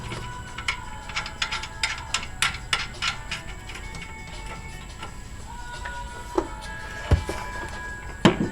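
Metallic clicks and ratcheting taps as a nut is threaded onto the rear shock of a Mk4 Jetta, an irregular run of sharp ticks through the first few seconds, then scattered louder clanks near the end.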